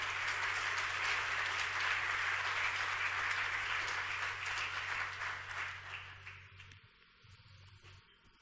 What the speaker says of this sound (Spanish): Un aplauso para nuestro invitado.